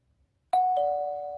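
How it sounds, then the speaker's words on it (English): A home doorbell rings out after a brief silence, a two-tone ding-dong with the second chime sustaining and slowly fading, close, clear and alone. "the doorbell rang"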